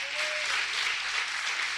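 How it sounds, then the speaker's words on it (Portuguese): A church congregation applauds loudly during a worship service, a dense, steady wash of clapping for under two seconds with no break. "Aplauda bem forte ao Senhor"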